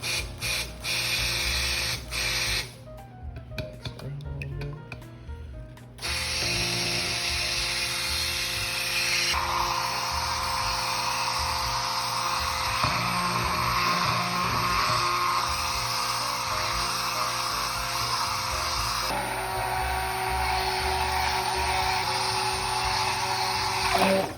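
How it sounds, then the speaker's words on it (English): A stick blender mixing a first batch of coffee cold process soap. The motor gives a continuous buzzing whir with a brief change in pitch early on, running steadily for over twenty seconds. "get the air bubbles out from under the actual stick blender head. And then you can start mixing it."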